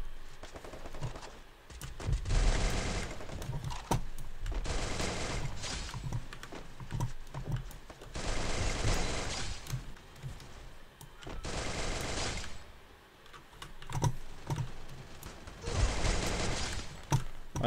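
Cobra-skin MP40 submachine gun fire in the mobile shooter Free Fire, heard as about five loud, rapid bursts spaced a couple of seconds apart with quieter stretches between them.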